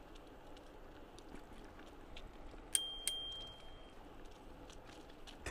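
A small bicycle bell rings faintly twice, a thin weak chime and then a quick second ding, over steady outdoor wind and rolling noise on a paved rail-trail ride.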